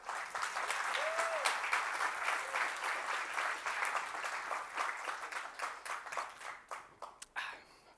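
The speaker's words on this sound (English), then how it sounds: "And here's where you clap when I drink." A conference audience applauds steadily throughout, a dense wash of many hands clapping that begins to thin out and grow more scattered toward the end.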